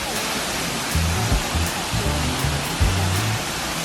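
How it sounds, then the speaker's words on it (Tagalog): Steady roar of the Millennium Waterfall on Nami Island, South Korea, a loud, continuous broadband rush of falling water close by, with faint voices murmuring underneath. "Ito guys, yung Nami Island Millennium Waterfall."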